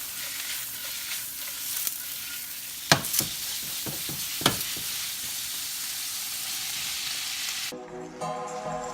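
Carne asada and vegetables frying in a pan for quesadillas, with a continuous close sizzle broken by several sharp utensil clacks and scrapes midway, then a quieter tonal stretch near the end.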